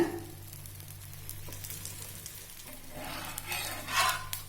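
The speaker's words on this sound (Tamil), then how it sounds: "அடை ஊத்திட்டு சுத்தி எண்ணெய் விட்டுக்கலாங்க" Soft sizzling and crackling of wheat rava adai batter frying in oil on a hot griddle, steady and close, with light scraping touches.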